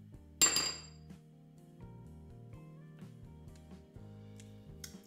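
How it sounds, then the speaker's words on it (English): A spoon strikes a dish once with a sharp, bright clink while garnishing pumpkin soup, followed by faint softer taps over steady background music. "Let me grab my other spoon."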